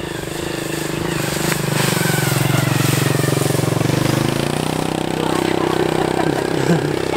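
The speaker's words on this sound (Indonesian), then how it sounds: "Ada motor lewat lagi cari rumput." A motorcycle passes along a rural rice-field path, its engine hum swelling through the middle and fading slightly toward the end, with voices talking over it.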